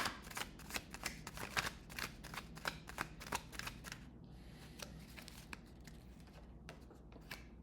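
Tarot cards are shuffled by hand in a quiet room, a rapid run of crisp riffling snaps followed by softer, sparser card flicks.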